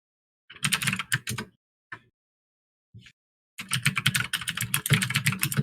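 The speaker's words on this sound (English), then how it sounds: "Clackety keys alert." Quick bursts of typing on a computer keyboard, with clattering keystrokes in a short run, two brief isolated taps, then a longer dense stretch of rapid clicking, close and fairly loud with no talk.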